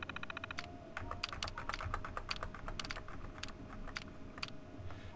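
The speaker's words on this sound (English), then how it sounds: "let's use the keyboard" Rapid clatter of keystrokes on a computer keyboard during a PC game session, irregular bursts of clicks close up and fairly quiet, running steadily with no talk.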